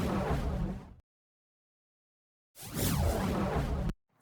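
Two bursts of roaring, crackling fire noise, each about a second or more long, separated by silence and cutting off abruptly.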